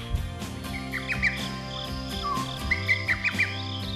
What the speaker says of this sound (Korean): 야자 할때 새소리도 들리고요.